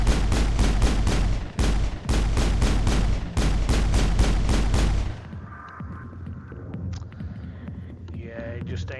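Rapid bursts of gunfire from the Mass Effect video game, loud and dense for about five seconds with brief gaps, then cutting off to quieter game ambience with faint voices.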